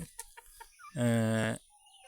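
A chicken on a small desi poultry farm gives a loud drawn-out squawking call after a few soft clucks, close by and alone.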